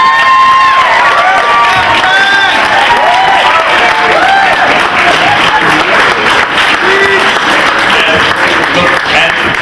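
Loud, dense audience applause fills a room to welcome Fred to the podium at a retirement event, steady clapping mixed with cheers and whistles throughout.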